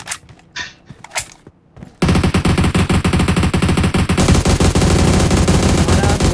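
Video game gunfire erupts as a dense, loud automatic burst that runs almost without break after a few scattered shots and quieter clicks at the start.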